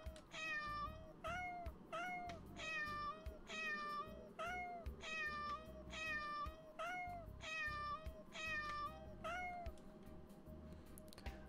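A cat meows repeatedly in a video game's cat mode, about ten evenly spaced, clear meows over a low steady background rumble, with no talking.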